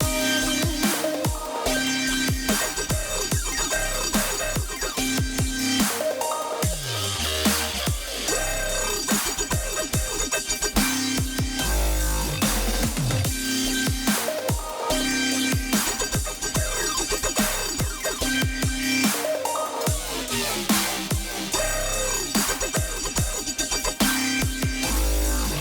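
Electronic music drop with a dense, heavily compressed and glued drum bus, punchy kicks and crisp hats under thick synths, loud and continuous with a brief breakdown midway, no voices.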